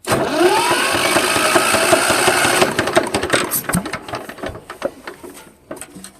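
A heavy walk-behind tractor's diesel engine runs loud and steady at full throttle, then drops abruptly into a choppier, uneven rattle with sharp knocks and bursts.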